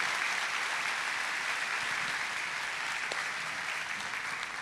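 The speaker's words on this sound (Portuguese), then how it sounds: "eu queria que vocês recebessem com um caloroso aplauso o meu amigo Pedro Felizola" Warm, sustained applause from a church audience greeting a guest speaker, a thick wash of clapping that holds at a steady level from start to finish.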